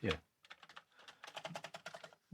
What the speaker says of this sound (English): So today I put it all back together and then turned it on and tested the keyboard.